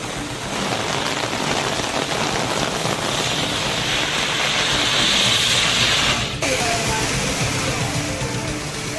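Heavy rain pours steadily onto waterlogged roads in a downpour, a dense continuous hiss close and loud, with a brief dip near the end before the roar resumes.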